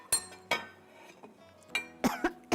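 Penne pasta for a baked chicken dish is spooned into an oven pan, giving a few distinct clinks and scrapes of utensil on metal, spaced out and fairly close.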